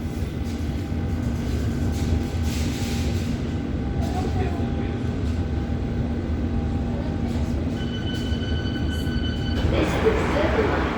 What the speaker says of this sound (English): Last tube ride for tonight.